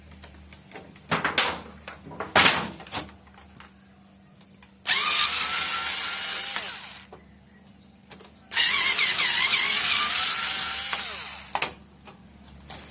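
A cordless electric screwdriver from a 45-piece kit drives screws. A few sharp clicks and knocks come first, then two sustained bursts of close, high whirring motor whine, each a couple of seconds long, with a short pause between them.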